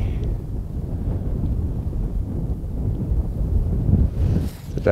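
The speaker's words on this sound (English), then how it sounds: "40 degrees and windy." Strong wind in southern Arizona at 40 degrees buffets the microphone in a constant low roar, rumbling and gusting throughout with no voices.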